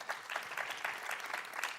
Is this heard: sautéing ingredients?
no